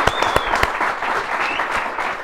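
Studio audience clapping during an Ethiopian television comedy show, a dense burst of many hands applauding at close range, loud and sustained across the whole moment, with no voices over it.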